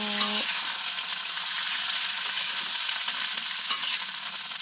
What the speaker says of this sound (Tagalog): Ayan guys, ilalagay na yung sitaw. Halo-halo.